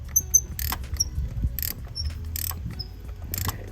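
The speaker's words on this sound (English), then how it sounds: "maybe we'll go back to the wrench a little longer first" A wrench loosens a spark plug on a Ford F150, giving a series of close, sharp ratcheting clicks in short bursts with small pauses, no talking.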